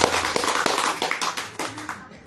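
An audience at a religious lecture gives a short burst of applause, with brisk overlapping hand claps that fade out within a couple of seconds.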